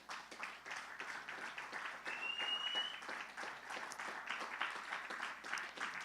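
A church congregation applauds the Lord mid-sermon, a steady dense clapping from many people, moderately loud and even throughout, with a brief whistle partway through.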